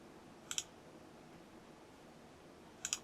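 Faint computer mouse clicks in a quiet room: one quick pair of sharp clicks near the start and another pair near the end, separated by near silence.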